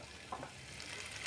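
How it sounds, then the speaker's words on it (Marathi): Chopped onion frying in oil in a pan, cooked until golden brown for a crab curry, giving a faint, steady sizzle with a soft stirring scrape partway through. "त्यामध्ये बारीक चिरलेला कांदा घालायचा आहे आणि चांगला परतून घ्यायचा आहे गोल्डन ब्राऊन होईपर्यंत"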